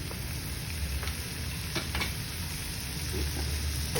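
Ground pork frying in its own fat in a pan, with a steady, even sizzle and a few soft clinks from stirring.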